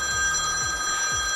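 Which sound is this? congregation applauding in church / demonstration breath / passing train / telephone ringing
telephone ringing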